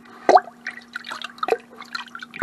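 Molasses water being poured into a bucket, heard as splashy drips and trickles arriving in short irregular bursts, close and fairly loud, with a steady low hum underneath.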